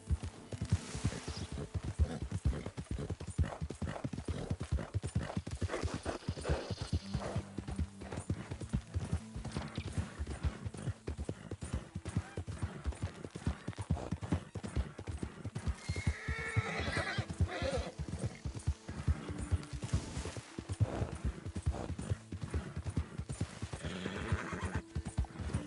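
Horse hooves clip-clopping steadily in Red Dead Redemption 2, with occasional whinnies and neighs over a continuous game soundscape of wind and ambient music, no talk.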